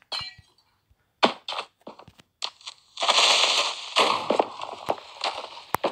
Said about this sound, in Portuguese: Explodiu logo isto tudo.